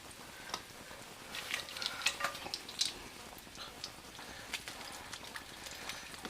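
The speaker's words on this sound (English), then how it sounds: "Now we're going to add our soy, 1½ tablespoons." Soy sauce poured into a warm pan for pork loin with honey garlic sauce, giving a steady soft sizzle with small crackles and pops, moderately close and without talk.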